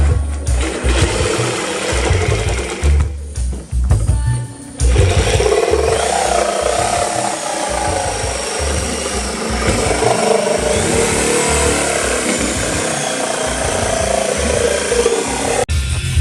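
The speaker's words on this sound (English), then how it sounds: "So we're gonna cut it with the Sawzall from right here." A Sawzall reciprocating saw cuts through the bumper support of a Mazda Miata, running loud and steady, with a brief drop around the fourth second before the harsh buzzing resumes for the rest of the cut.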